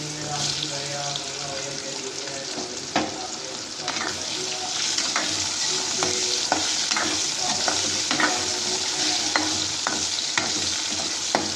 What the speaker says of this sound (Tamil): உருளைக்கிழங்கு அப்படியே லைட்டாக பொரிச்சு எடுத்துக்கலாம்.